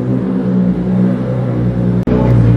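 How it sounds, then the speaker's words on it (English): A loud car rumbles close by on the Las Vegas Strip with a steady engine drone, rising briefly as it passes, with no talking. "I'll talk after this loud car."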